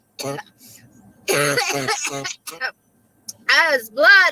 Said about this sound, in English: Sounds like meth cough.